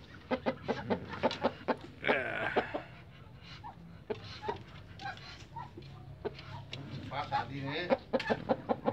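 A Bangkok chicken hen clucking close by, with short repeated clucks and a brief louder squawk among low background noise, while a person speaks softly at times.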